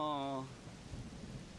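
Soft, steady rain falls in The Legend of Zelda: Tears of the Kingdom, a faint hiss following a brief tonal voice-like sound at the start.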